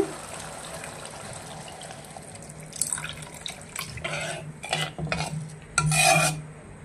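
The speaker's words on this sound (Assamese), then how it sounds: "এতিয়া মই ইয়াতে দি দিম জোখমতে পানী" Water splashes and pours into a cooking pan of frying raw banana in several short bursts, growing louder toward the end, over a steady low background hum.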